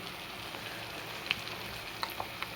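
Cumin powder going into a frying pan, giving a soft, steady sizzle with a few faint crackles, close and quiet, with no one speaking.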